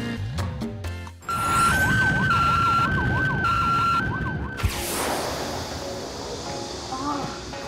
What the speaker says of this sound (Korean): 여기에는 경찰음이고 여기에는 소방음 여기에는 병원음 기타 부조 등 이렇게 네 가지가 종류가 있습니다